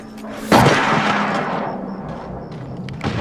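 A single sharp gunshot in a shooter video game, loud and close, followed by a long decaying rumble and faint background game noise.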